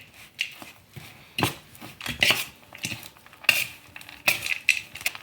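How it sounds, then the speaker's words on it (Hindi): Jaggery, peanut and coconut filling mixed in a bowl with a spoon, giving intermittent close scraping and clinking strokes, irregular and fairly quiet, with no talking. "अब इन चीज़ों को हम मिक्स कर देंगे।"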